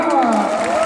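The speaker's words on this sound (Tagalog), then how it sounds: "Pumalakpak!" Seminar audience cheering and clapping together, a short, loud burst of excited voices with scattered claps underneath.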